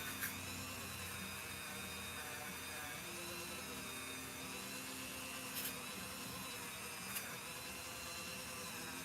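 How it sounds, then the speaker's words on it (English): Power sanding of prop parts, a steady high-pitched whirring hum sustained throughout at moderate distance, with a couple of brief scraping bursts. "I think I got just enough time to get these kind of sanded down"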